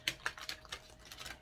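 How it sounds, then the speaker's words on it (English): Tarot cards being shuffled by hand, a quick run of crisp, papery flicks and taps repeating in an uneven rhythm, close up and fairly quiet with no talking. "So I'll shuffle one more time."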